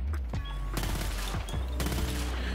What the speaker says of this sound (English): And let's try the burst fire.